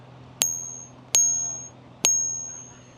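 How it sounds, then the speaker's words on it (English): Three high, bright metallic rings from a fake coin, each struck once and left to hum with a long fading ring, spaced about a second apart in a quiet room. "Here's the fake one. It's a much higher pitch sound."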